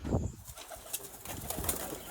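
Pigeons coo softly in the large yard of a private house, low murmuring calls with faint wing flutters under a steady outdoor background hiss.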